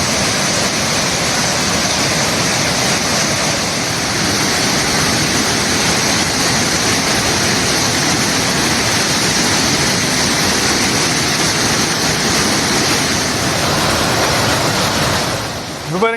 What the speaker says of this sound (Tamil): சுருளி அருவியில் கடும் வெள்ளப்பெருக்கு ஏற்பட்டிருப்பதால்